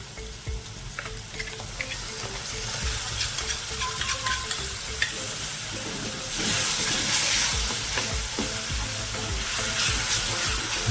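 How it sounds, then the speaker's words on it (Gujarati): Yogurt being stirred into a sizzling spiced gunda blossom curry in a pan, giving steady loud frying hiss and crackle with spoon scrapes, swelling into a stronger steamy sizzle in the second half, close up and without talking. "દહીં નાખ્યા પછી આપણે કન્ટિન્યુ હલાવી નાખવાનું એટલે દહીં ફાટે નહીં"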